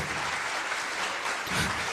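Audience applause at a live concert, a dense, continuous wash of clapping from a crowd, loud and even across the whole moment.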